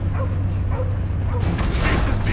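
A dog barks in the Marvel's Guardians of the Galaxy video game, a few short yips and whimpers over a steady mechanical hum during a combat scene, with a burst of harsher noise toward the end.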